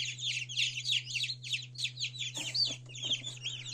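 Newly hatched Black Copper Marans chicks in an incubator peep continuously in high, rapid overlapping chirps close by, with faint rustling and handling noise joining partway through under a steady low hum.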